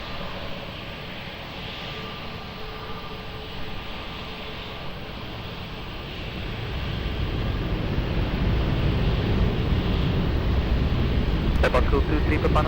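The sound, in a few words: airplane taking off from runway 20 at Lisbon Airport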